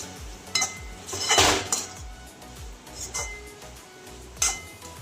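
Cardamom powder being stirred into thick amla murabba in a pan at home, heard as close metallic scrapes and clinks of a spoon against cookware, with several sharper knocks and a busy clatter in the middle.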